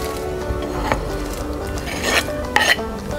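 Meat being put back into a pot of simmering pea soup with smoked ribs: metallic clinks and scrapes of a utensil against the pot, with a couple of louder clanks toward the end.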